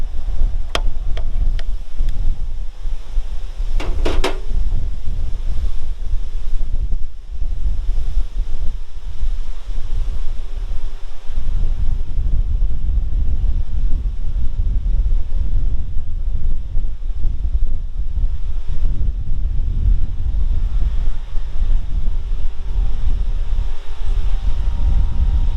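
Strong outdoor wind buffets the microphone continuously for the whole stretch, a loud, uneven low roar with a few brief clicks early on and no talking.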